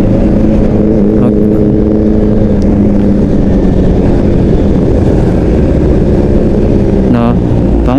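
A large big-bike motorcycle engine idles with a deep, steady rumble close by, rising briefly near the end, with voices faintly underneath.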